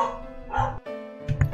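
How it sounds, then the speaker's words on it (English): A dog barks in short bursts from nearby, a few loud yelps separated by brief gaps, heard over a steady electronic game soundtrack. "Hold up, dog's barking."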